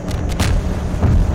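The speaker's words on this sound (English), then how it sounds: "That's that was a really good explosion" An explosion in the video game Half-Life 2 makes a loud, dense boom with a sustained rumbling roar and a second surge near the end, heard alone with no talk.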